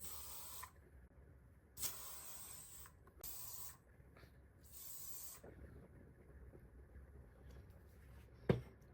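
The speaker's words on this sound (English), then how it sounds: "I'm going to now spray some hairspray very gently." Several short hissing bursts of hairspray, close and quiet, spaced a few seconds apart, with a soft knock near the end.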